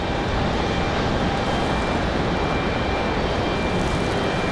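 Republic Airways jet departing Raleigh-Durham in snowy weather, a steady distant engine rumble with faint whine, continuous and fairly quiet.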